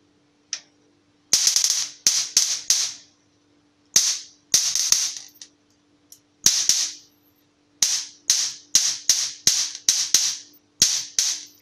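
A tuned, high-powered electric fly swatter fires off a series of sharp, loud snapping cracks, some single and some in quick bursts, separated by short silences over a faint electrical hum.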